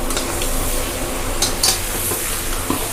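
Whole garlic cloves and about 2 kg of mutton sautéing in a pot with no added water, giving a steady close hiss broken by several sharp metallic clinks and scrapes of a utensil against the pot.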